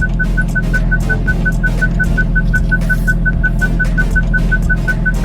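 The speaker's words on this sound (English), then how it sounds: "What you're hearing there is my proximity sensor." A BMW parking proximity sensor beeps close to a fence: a steady run of short, evenly spaced high beeps over a low, continuous car hum.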